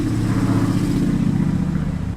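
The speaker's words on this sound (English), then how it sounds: "That was actually a whole motorcycle, so that's why it was so loud." A motorcycle passes close by outdoors with a loud, steady engine roar and strong low rumble that holds for about two seconds. No voices are heard.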